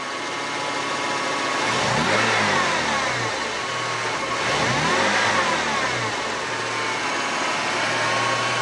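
A warmed-up Ford OBD1 engine running steadily, its throttle snapped twice so the revs swell and fall back to idle each time, close and fairly loud with no talk.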